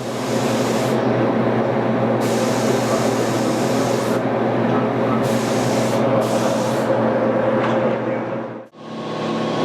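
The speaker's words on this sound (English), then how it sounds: "shooting the top coat now" Spray gun laying down a top coat of paint on South Bend Heavy 10 lathe parts, a loud steady hiss with bursts of airy spray that start and stop, continuous and close.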